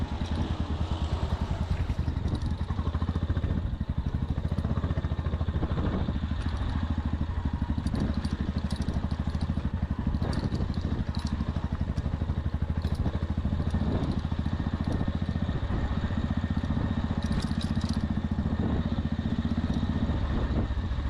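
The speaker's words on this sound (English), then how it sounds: "my bike is really behaving very well on these roads" A motorcycle rides along snowy mountain roads at Sela Pass near Tawang in Northeast India, its engine giving a steady, continuous drone with clattering and wind noise throughout and no talking.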